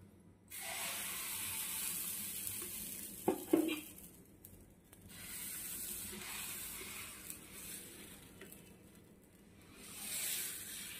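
Ridge gourd dosa batter sizzles on a hot pan, a steady broad hiss through most of the stretch with a couple of brief clinks of a utensil near the middle, fairly quiet and without speech.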